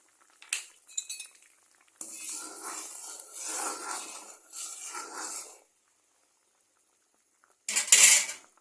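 A metal utensil scrapes and clinks against a pot while masoor lentil dal cooked with papaya is served out, in bursts of scraping separated by short pauses and ending with a sharp clatter.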